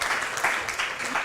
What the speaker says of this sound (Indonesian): Tepuk tangan untuk kalian semua yang ada di sini ya.